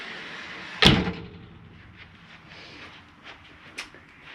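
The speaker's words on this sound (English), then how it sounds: "Make sure when you travel, your closet doors snap closed." A closet door inside a Catalina 343BHTSLE travel trailer snaps shut with one loud, sharp close-up slam, followed by faint rattles and a lighter click a few seconds later.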